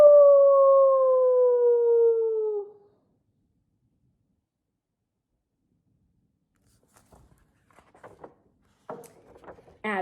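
A single long, drawn-out howl that slowly falls in pitch, a voice imitating a coyote, followed by silence and then faint scattered rustles.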